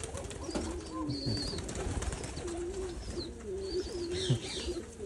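Pigeons coo softly in a rural village farmyard in Bangladesh, low repeated burbling calls from nearby birds with faint chirps and quiet outdoor background, no talking.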